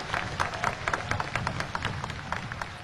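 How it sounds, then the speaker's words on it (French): Applause from a crowd at a New Year's Day 2004 speech by Jean-Bertrand Aristide, a steady run of claps that stays even and moderately loud, with no speech over it. "Nous continuons à applaudir pour nous dire merci avec tout cœur"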